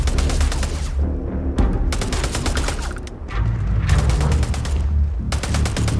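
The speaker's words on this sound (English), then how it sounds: "What the hell are you firing at?" Sustained bursts of rapid gunfire from the video game Starfield, loud and close, firing in dense volleys broken by brief pauses over several seconds.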